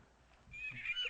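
An Audubon stuffed toy California gull giving its recorded call, a brief nasal honking squawk that rises quickly, faint and close, heard alone.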